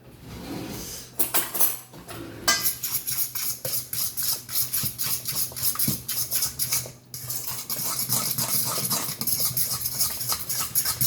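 Muffin batter being mixed with honey for grain-free carob chip muffins, a rapid run of close scraping and clicking as a utensil beats against a bowl, briefly pausing and then resuming steadily.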